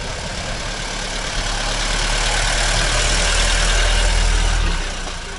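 A vintage car idles at an oldtimer market, a steady low engine rumble with a chugging pulse held close and loud for several seconds before easing slightly, with no talk over it.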